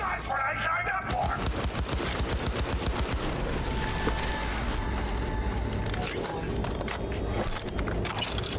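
Automatic gunfire in the Cyberpunk 2077 video game rattles in a fast, steady stream of shots for several seconds, with clicking mechanical noises and a voice talking over the action.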